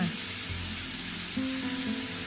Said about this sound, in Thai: การที่เราเอาหมูไปจีกับน้ำมันก่อนแบบนี้นะคะ